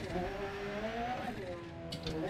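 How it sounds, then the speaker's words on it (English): Engine of a rear-wheel-drive car running on patchy ice and tarmac, a steady droning note that shifts and lightens in pitch as the wheels lose grip, close and continuous, with faint tire noise near the end. "You can hear the engine getting light."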